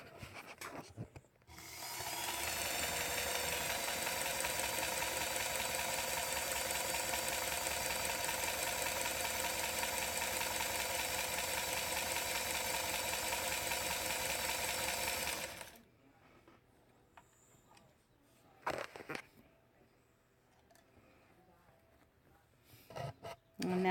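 A Dressmaker SWM-1000 sewing machine runs a tight satin stitch, a steady whirring hum with fast even needle strokes for about fourteen seconds, then stops, leaving quiet handling clicks and rustles.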